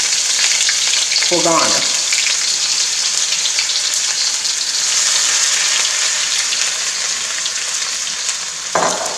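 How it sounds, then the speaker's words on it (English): Vegetables stir-frying in a hot pan for fried rice, a steady loud sizzle with scraping stirs, a few short spoken words near the start and end. "go ahead and put my vegetables in"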